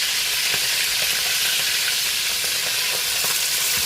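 Fish frying in hot oil in a pan with garlic gives a steady, loud, close sizzle and crackle that runs throughout, with occasional small pops and no talking.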